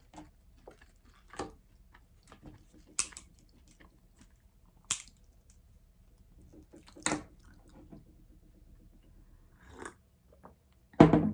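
Quiet, sparse crunches and soft clicks of someone chewing a half slice of bread, several seconds apart, with a louder bite at the very end.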